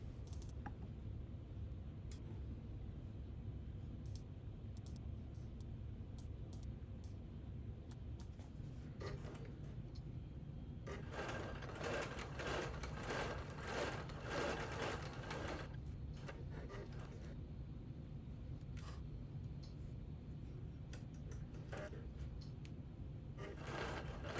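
Longarm quilting machine stitching a quilt, a quiet continuous motor hum with bursts of faster rhythmic needle chatter in the middle, stopping and starting as rows are sewn.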